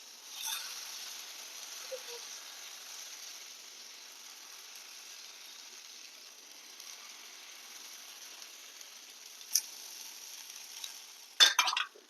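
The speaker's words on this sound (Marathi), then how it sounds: "आता दुसरं पण आपण त्याच पद्धतीने टाकूया तेल टाकून घेऊया खाली" Cucumber batter pancake frying in oil on a griddle, a faint, steady sizzling hiss throughout with a few sharp clicks of a utensil near the end.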